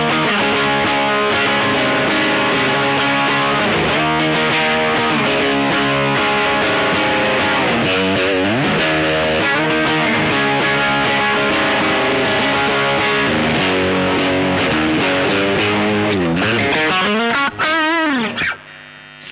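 Electric guitar played through overdrive or distortion, loud and sustained with thick harmonic chords and bending lead notes throughout, then cutting off abruptly at the end.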